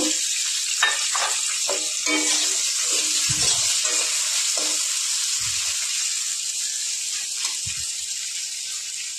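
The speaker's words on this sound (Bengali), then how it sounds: "আমি ওই তেলের মধ্যে আলুটা ভেজে নেব।" Potatoes sizzle continuously in hot oil left from frying a rohu fish head, a steady bright hiss broken by a few soft scraping stirs.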